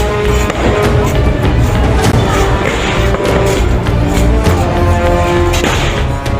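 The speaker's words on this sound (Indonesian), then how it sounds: "terlihat warga panik berhamburan ke jalan karena adanya kebakaran dan terjadi hujan tembakan" Gunfire breaks out on a street in Wamena, Papua, where a fire is burning and residents flee in panic, giving a dense, loud run of sharp cracks and thuds over a constant roar with some voices.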